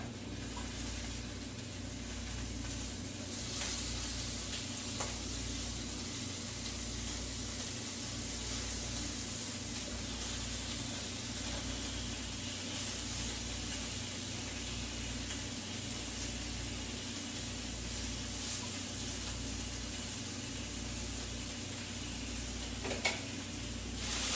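Chicken fries in a pan on a burner, giving off a steady, even sizzling hiss throughout with no voices over it.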